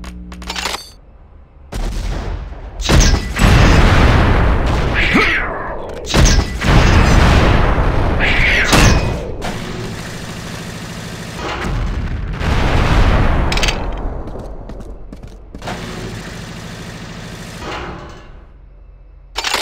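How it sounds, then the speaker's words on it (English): Incendiary grenades exploding in the video game Unreal II, a series of loud booming blasts with roaring bursts of fire between short silences, some overlapping. "so you can bounce the grenades around some before they explode"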